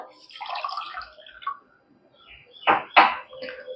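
A short splash of water poured into a pan for jalebi sugar syrup follows a couple of brief clinks and rustles, the pour coming in two quick close bursts near the end.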